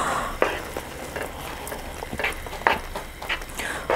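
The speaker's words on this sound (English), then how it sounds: "So let's keep stirring" Stretchy cheese is stirred in a hot pan for a fried chicken meal, giving soft bubbling sizzle punctuated by irregular scraping, sticky strokes that come close and fairly loud.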